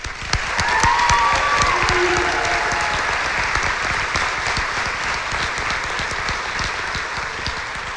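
An audience at an occupational therapy white coat and pinning ceremony gives a full, loud round of applause. The clapping is dense and sustained, with a few faint voices mixed in as it slowly eases.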